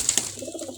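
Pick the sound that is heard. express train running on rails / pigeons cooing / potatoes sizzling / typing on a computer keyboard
pigeons cooing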